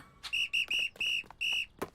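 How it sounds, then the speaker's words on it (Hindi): Whistle blown in the PJ Masks cartoon, four sharp shrill toots in quick rhythm with short gaps between them, close and clear with no talking. "हमें सीटी मिल गई।"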